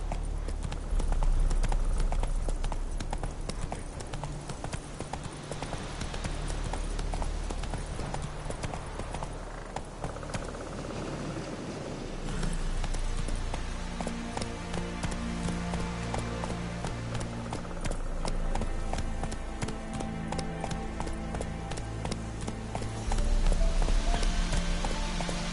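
Roach, the horse in The Witcher 3 video game, gallops with steady, rapid hoofbeats clip-clopping throughout, close and fairly loud, with rhythm shifting slightly as the pace changes and game music or ambience underneath.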